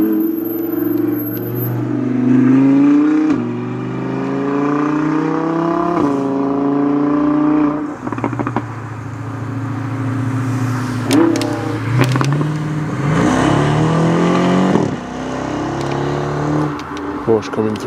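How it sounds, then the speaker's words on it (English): A Porsche sports car driving through the Curborough sprint course, engine revving hard up and down through repeated gear changes, loud and near, with people talking at times. "Porsche coming through again."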